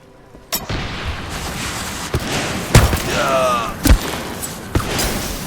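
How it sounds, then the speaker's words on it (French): A thermite grenade blasts in the shooter game Titanfall 2, one sharp boom and crackle among repeated thumps and gunfire-like bursts over a steady battle din, with a short whistling tone mid-clip. "Grenade thermique."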